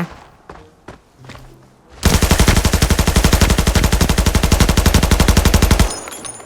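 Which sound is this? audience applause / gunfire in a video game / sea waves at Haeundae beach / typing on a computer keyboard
gunfire in a video game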